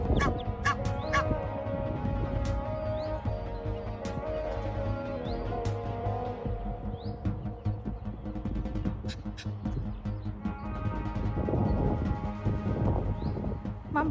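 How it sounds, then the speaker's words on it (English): An Egyptian goose gives repeated honking calls by a river, harsh and fairly close, running over a steady background. "Daddy Goose flies across and calls Mom to bring her babies to the other side of the river."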